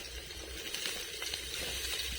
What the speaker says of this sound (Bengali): কড়াতে তেল দিয়ে দিচ্ছি পেঁয়াজ কুচি দিয়ে দিচ্ছি কাটা দিয়ে দিচ্ছি আর কেটে রাখা বিনসগুলো দিয়ে দেবো